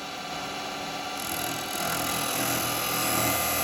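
A square carbide chisel cuts wood on a spinning lathe while making a soft touch live centre, a steady, dense hiss and whir that swells slightly, close up with no talk.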